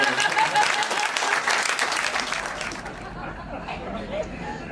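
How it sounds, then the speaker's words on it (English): Audience applause for performers, loud dense clapping that tapers off by the midpoint into scattered claps and murmuring crowd chatter. "A big round of applause for Bernard and Peter."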